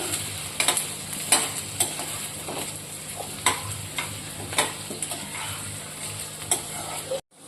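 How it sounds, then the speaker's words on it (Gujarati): Sliced okra fries in oil in a pan with a constant sizzle while being stirred, with irregular scraping and clinking strikes of a utensil against the pan, and it stops abruptly at the end. "આને તળી લેવાનું છે એટલે આ રીતે તેલમાં કરવાથી એની ચીકાશ બધી જતી રહેશે"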